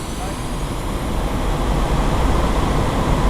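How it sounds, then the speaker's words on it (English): Jet engines at full thrust for takeoff in the DCS World flight game, a dense, loud, continuous roar heavy in low rumble that builds slightly over the few seconds. "increase thrust of both engines to maximum"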